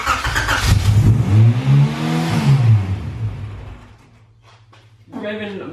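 A Honda Civic EG6, running for the first time in two years, revs loudly up and down before dropping to a rough, quieter idle, with a brief voice near the end.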